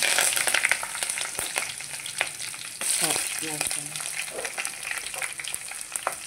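Steady hiss of oil sizzling in a pan, with sharp crackles and pops as tempering seeds hit the hot fat; a faint voice briefly underneath.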